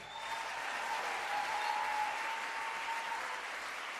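A church congregation claps together in steady, dense applause throughout, moderately loud and even, with no voices standing out.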